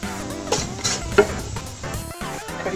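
Ginger and garlic frying in a pan, giving a steady soft sizzle with occasional stirring scrapes and clinks of a utensil against the pan, heard alone.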